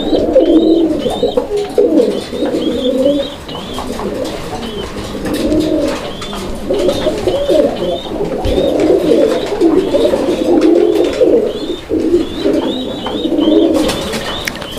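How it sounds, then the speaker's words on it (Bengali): A pair of blue bar pigeons coo close by in loud, repeated rolling calls that overlap in a steady rhythm, with light rustling in the background. "এটা হচ্ছে ব্লুবার মুখী কবুতরের একটা জোড়া"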